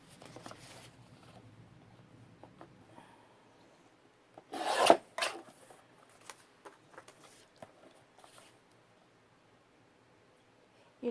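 Paper tickets being trimmed for a decorated journal page, giving soft rasping cuts and rubbing, mostly faint with a louder burst of handling in the middle and quiet stretches between.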